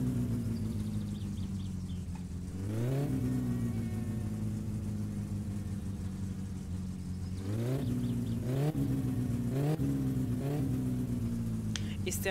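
A car engine in the driving game My Summer Car cranks, starts and revs repeatedly, with several sharp rises and falls in pitch over a steady idle drone, loud and close, with no talk during it.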